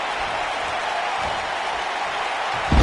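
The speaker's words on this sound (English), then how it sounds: "I don't remember the last time I heard a more passionate crowd than the one we have here tonight" A fired-up crowd in a wrestling arena at a pay-per-view event roars with a steady wash of cheering and applause, growing suddenly louder near the end.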